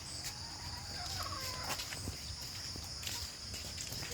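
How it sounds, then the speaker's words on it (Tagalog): Backyard chickens peck at their feed, giving faint, scattered clucks and gobbling-like calls over soft scratching and footstep sounds. The whole scene is quiet and distant, with no talking. "yung mga manok na kumakain doon."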